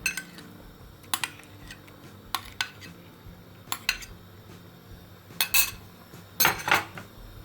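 A metal spoon scrapes and clinks against a pot while tomato paste is stirred into Moroccan harira soup with meat, a series of irregular sharp knocks and scrapes, close and clear, with quiet gaps between strokes.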